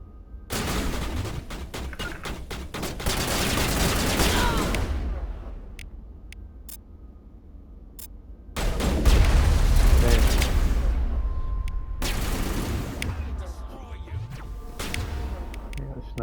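Sniper fire in a Mass Effect battle, sharp loud gunshots cracking in bursts with a rapid volley at first, then heavier booming shots later, mixed with combat noise and some game voices.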